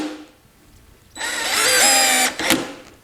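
A DCA 20V cordless drill drives a screw flush at torque setting 16 of 18, a loud whirring motor burst of about a second, a brief dip, then a short final spurt before stopping.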